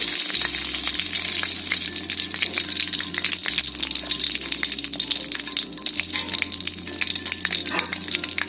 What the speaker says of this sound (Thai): เกลี่ยเกลือให้กระจายไปทั่ว ท้องกระทะนะครับ